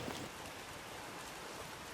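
Heavy downpour on a roof during a rainwater collection test, a faint steady hiss of rain without pause over two seconds.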